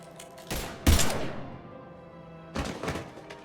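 Bursts of gunfire in the Mass Effect 3 video game: a sharp volley near the start, then a second burst toward the end, loud and close with a ringing tail between them.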